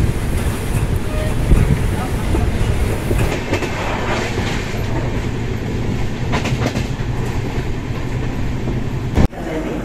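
A Doon Express passenger train runs steadily, its broad rumble and rattle of wheels on rails filling the air up close, with a sharp clunk near the end.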